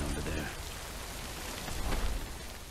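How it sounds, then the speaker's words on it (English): Rain in the video game Death Stranding, a steady soft patter on surfaces, fairly faint, with a slightly heavier burst near the end. "You wait out the rain over there."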